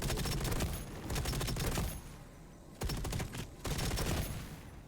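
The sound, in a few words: gunfire in the video game EVE Online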